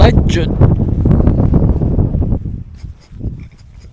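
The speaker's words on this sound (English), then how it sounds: "Don't want the wind to spoil this." Strong wind buffets the microphone on open Yorkshire moorland near the Wainstones, giving a loud, steady rumbling roar that eases off toward the end.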